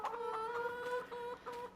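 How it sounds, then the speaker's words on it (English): Chickens and a rooster in the farming game Farming Simulator 22 cluck steadily, close and fairly loud, with sustained calls that keep running under soft background noise. "I think we've got 10 chickens there and a rooster"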